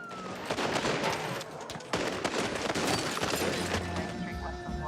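Rapid bursts of gunfire from a movie shootout between police and gang members, dense overlapping cracks in clusters with a brief lull, voices mixed in underneath.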